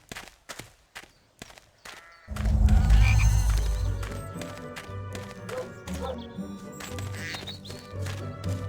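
Croaking of a chocolate frog in a Harry Potter and the Chamber of Secrets PS2 game, a few short taps before a loud, low rumbling burst that settles into steady game background sound with no talk.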